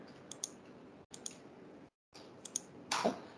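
A computer mouse clicking a few times, sharp light taps spaced irregularly over soft background hiss, ending with a slightly louder scuffing click.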